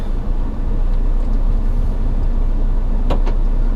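A 4WD creeping slowly down a steep clay descent on a rough outback track in Cape York, with a loud steady low engine rumble and a couple of brief higher rattles near the end.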